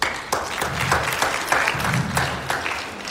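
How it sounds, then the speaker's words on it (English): An audience at a club event bursts into several rounds of hearty applause, rising and swelling in waves of dense clapping close by, with no talk over it. "Give yourself a round of applause."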